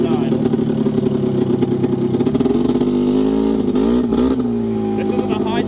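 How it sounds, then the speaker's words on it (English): A 1998 Polaris Scrambler 400 4x4 ATV engine holding a raised RPM with a steady, loud drone that wavers and dips near the end as it starts easing back toward idle. "That's why it's holding that RPM. And then it'll go right back down to idle."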